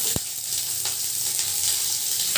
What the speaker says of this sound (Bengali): তেলটা একটু গরম হতে দেবো। তো ফ্রেন্ডস, এখানে আমি এবার পেঁয়াজ কুচিটা আমি এখানে দিয়ে দেবো।